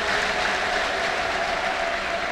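Dense, sustained applause from a church congregation, an even wash of many hands clapping at steady loudness with no break.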